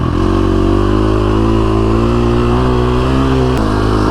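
KTM 350 SX-F dirt bike set up for desert riding, its engine loud and close at steady high revs with a pitch that rises slightly, then a brief shift in tone near the end.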